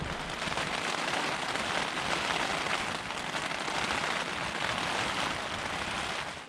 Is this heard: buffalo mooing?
no